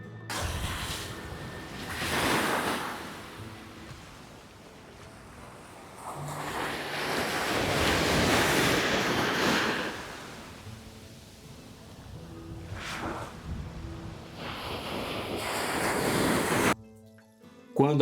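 Ocean waves at low tide on Porto de Galinhas beach, with broad swelling washes of surf rising and falling several times amid wind noise and no voices.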